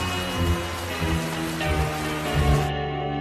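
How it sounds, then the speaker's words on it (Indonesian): Heavy rain falling, a dense continuous hiss of drops at steady loudness, with low thumps underneath and no talking. "Ini hujan makin deras."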